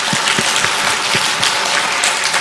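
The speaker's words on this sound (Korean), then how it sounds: "하나님께 크게 영광의 박수 한번 드립시다" Congregation clapping at a church's 30th-anniversary Sunday worship service, a loud dense wash of hands filling the room steadily from start to end, with a few heavier low thumps under the clatter.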